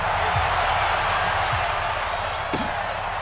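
Broad, steady roar of a packed stadium crowd in Madden NFL 20, loud and constant throughout, with a few thuds and muffled voices rising out of the din.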